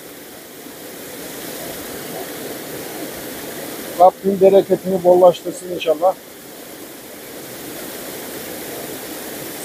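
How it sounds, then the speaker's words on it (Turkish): Meltwater from snow rushes steadily toward a pond near a stream in Cappadocia, a continuous broad hiss of flowing water throughout, with someone speaking briefly in the middle. "karların erimesiyle güzel yurttaki göletinize hızla giden suların şırıltılarını dinleyin arkadaşlar"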